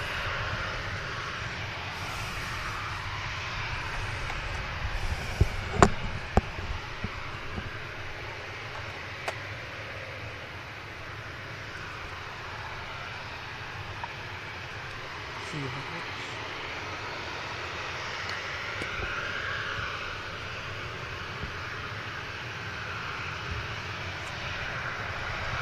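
Dreamliner airliners, including a Norse-operated 787, taxi out at a busy airport, their engines a steady broad roar held at moderate distance for the whole stretch, with a few brief knocks near the start.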